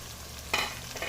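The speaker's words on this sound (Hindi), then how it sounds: "प्याज को भी 1 से 2 मिनट के लिए फ्राई करेंगे" Finely chopped onions frying in a pan with garlic-ginger paste, a soft, steady sizzle close by with a brief louder hiss as they are stirred, no voices.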